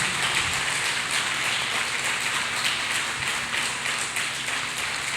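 Hands clap steadily across a church congregation, a dense, even patter of many people clapping that holds at a constant level with no talk over it.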